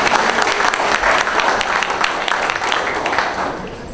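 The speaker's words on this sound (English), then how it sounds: "So I just want to give Sam a big round of applause and to thank him for that." An audience at a Republican gubernatorial candidate forum in Atlanta applauds, steady dense clapping from a crowd that fades slightly toward the end.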